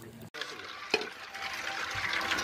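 River snails are swished and rinsed in water, with close, steady sloshing and splashing and a brief sharp knock near the start, with no talking.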